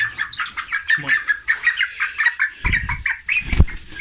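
Laying hens in a backyard flock cluck and chirp in short, busy bursts, with a brief flap or scuffle near the end, fairly close and alone.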